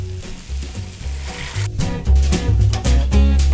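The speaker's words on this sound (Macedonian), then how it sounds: "И сега му заливам 200 мл поблаго винце" Wine hits a hot pan holding tomato paste and sizzles loudly and close. The bursts of frying hiss swell and ebb with stirring and scraping, and there is no talk.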